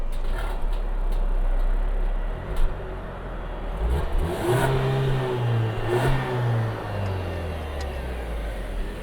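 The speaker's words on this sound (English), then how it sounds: "Gotta give it a couple revs." A 2023 Cadillac CT4 engine revs up a couple of times from a steady idle, rising and falling in pitch close by with a slight whooshing whine. No one speaks.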